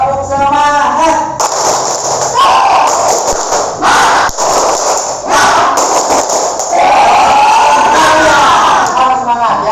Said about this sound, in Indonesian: kita akan melakukan tepuk semangat lah.